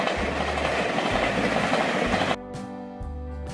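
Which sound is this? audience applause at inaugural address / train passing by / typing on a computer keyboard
train passing by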